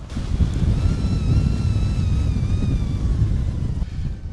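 Wind of about 20 mph with gusts to 25 rushes and buffets the microphone in a steady roar outdoors, with a faint high whistling tone drifting above it.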